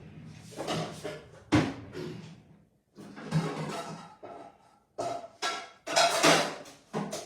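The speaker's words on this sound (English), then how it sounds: "When you get the fry pan, put that on the stove" A frying pan is handled in a kitchen and set on the stove, making a series of close metallic clanks, scrapes and knocks in separate bursts with short quiet gaps between them.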